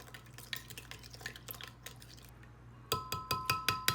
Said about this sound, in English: And I'll stir it.